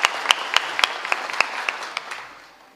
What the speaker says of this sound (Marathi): म्हणून एकदा शिंदे साहेबासाठी टाळ्या वाजवा